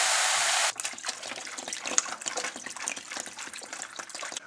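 Water gushes steadily into a cooking pot holding sautéed dried shrimp, about three to four litres for a Saigon-style hu tieu noodle soup, a continuous close splashing pour with no talking.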